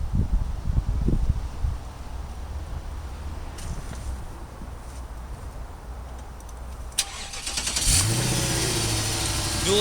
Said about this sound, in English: Dual exhaust pipes, which are all stainless. It sounds fantastic.